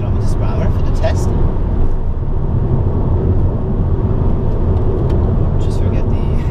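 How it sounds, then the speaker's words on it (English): A 2011 Peugeot RCZ 1.6 THP cruising at about 130 km/h fills the cabin with a steady engine, road and wind roar, loud and constant, while someone talks over it. "So now we're gonna go around 130 kilometers per hour for the test."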